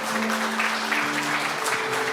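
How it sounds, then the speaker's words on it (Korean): Applause from an audience welcoming a guest at a founding assembly and inauguration ceremony for a Korean association of former lawmakers; steady, moderately loud clapping throughout the short stretch, with faint tonal hum underneath. "여러분 뜨거운 박수로 환영해 주시기 바랍니다."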